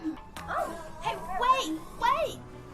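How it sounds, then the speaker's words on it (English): Cartoon space puppies from Star Wars: The Bad Batch yip and bark in short bursts while someone talks over them, the barks bright and close. "Oh, space puppies."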